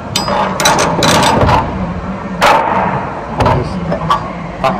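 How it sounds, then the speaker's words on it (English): A pin is worked out of a DAF LF truck, giving a close series of metallic clanks, knocks and ratchety clicks in irregular bursts, loud and near, with someone speaking briefly. "And then pull the pin out."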